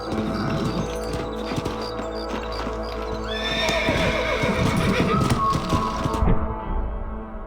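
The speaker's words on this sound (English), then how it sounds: "Let's get back on the horses and see what else is going on." Horse hooves clip-clop steadily in the video game Red Dead Redemption while a horse lets out a loud whinny partway through, ending in sudden quiet.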